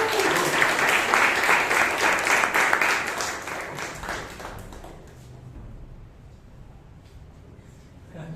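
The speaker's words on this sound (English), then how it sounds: "please, with a big round of applause" A Toastmasters club audience in Bangalore claps in a dense burst for about four seconds, then the applause fades to a quiet room tone.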